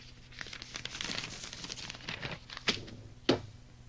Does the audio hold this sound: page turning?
yes